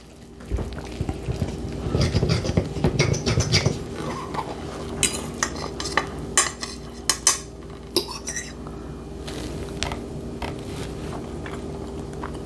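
Cutlery clinks and scrapes against a plate while someone eats meatloaf with green beans, a run of close, sharp taps and clatters with some low rumbling handling noise early on.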